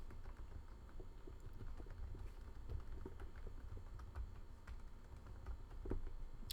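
Faint, quick clicking of typing on a computer keyboard, a steady patter of keystrokes over a low background hum.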